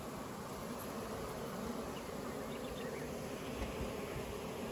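Honeybees swarm over an open hive during colony splitting, a dense, steady buzzing drone that fills the air without a break and with no voices.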